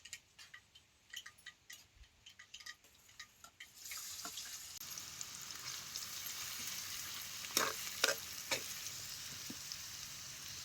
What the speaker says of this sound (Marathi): आता हे कांदा तेलात लालसर वस्तू भाजून घ्यायचा